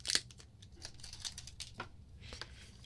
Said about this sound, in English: We'll take the wrapper off.